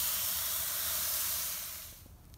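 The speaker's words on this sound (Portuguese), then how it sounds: "Vou tirar essas primeiras que eu fritei, vou fritar o resto, para depois fritar a cebola." Beef pork chops frying in a hot skillet give off a steady, loud hiss and sizzle that fades toward the end, with no talking.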